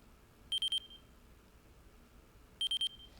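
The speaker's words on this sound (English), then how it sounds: "That's why we're getting the beep, beep, beep, beep, beep," Timer beeps from a Radiomaster TX16 RC transmitter: two bursts of three rapid high-pitched beeps about two seconds apart, clear and close over a quiet room.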